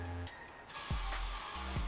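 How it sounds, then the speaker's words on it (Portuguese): A can of fixing hairspray hisses in short bursts onto a fringe of hair, a couple of brief puffs followed by a longer bright spray, close and fairly loud with low thumps in between. "E agora eu vou passar um spray fixador nela pra ela ficar desse jeitinho aqui também"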